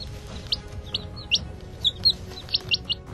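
Hen and chicks in a predator encounter, with repeated short high chirps and peeps at an irregular rhythm, close and clear over a low background rumble, with no talk.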